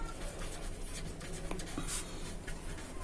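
A pen writes by hand on paper in short scratchy strokes with small pauses between them, close and fairly quiet, as someone works out a formula for an unequal lateral tee branch.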